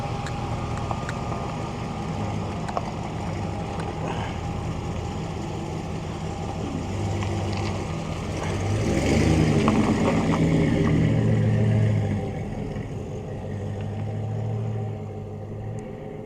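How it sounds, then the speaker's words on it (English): A 1991 Chevy OBS truck with an LS engine swap reverses slowly out of a driveway, its steady low engine drone and exhaust rumble continuous throughout and swelling briefly midway. "it's going for its first drive, reversing out of the driveway"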